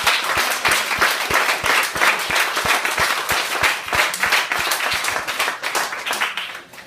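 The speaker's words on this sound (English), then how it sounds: "I think you deserve another round of applause" Parents and players at an under-9s football club end-of-season presentation give another round of applause: loud, busy clapping from many hands with sharp individual claps standing out, continuing for several seconds before thinning slightly at the end.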